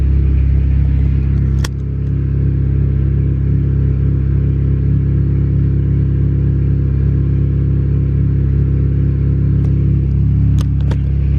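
A Honda single-cam D16 engine in a car idles steadily with a low, smooth rumble, close up, with a few faint clicks and clinks over it.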